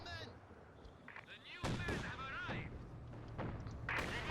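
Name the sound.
heavy mortar artillery fire in the video game Company of Heroes 2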